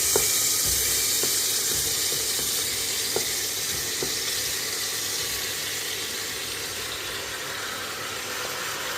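Tomatoes frying in about two spoons of sesame oil, a steady hissing sizzle with a few faint clicks, holding level throughout and without talk.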